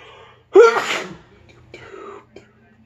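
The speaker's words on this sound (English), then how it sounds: "I feel a sneeze coming on." A single sharp, loud human sneeze bursts out near the microphone, followed by a few quiet breaths and small mouth sounds.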